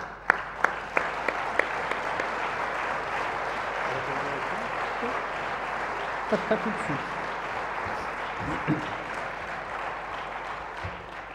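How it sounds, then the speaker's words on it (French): Sustained audience applause at an award ceremony for Manager of the Year 2011, even and continuous throughout, with a few isolated louder claps near the start and faint voices murmuring underneath. "Je vous demande donc d'applaudir Madame Margarita Laudreyfus."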